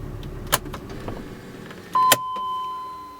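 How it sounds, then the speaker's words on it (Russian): A BMW started with a newly programmed key: a couple of sharp clicks and a brief chime as the ignition engages, then a steady electronic tone and low hum as the car comes alive, no talk. "Машина от него тоже запускается."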